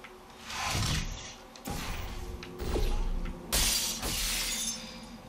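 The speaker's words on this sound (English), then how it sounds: "Broken glass is not safe." Glass shatters in Portal 2, a sharp crash followed by tinkling debris and several later thuds and smashes, loud and close with no talk.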